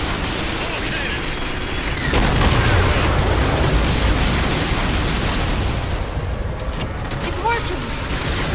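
Cannon batteries and heavy explosions in the Halo 4 campaign, a dense, sustained barrage of booming blasts that swells louder after a couple of seconds and rumbles on nearly continuously.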